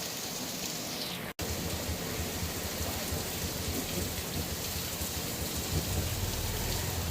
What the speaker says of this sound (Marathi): आज आपण पावसाचा सीन घेतोय. आम्ही पावसामध्ये दिसतोय.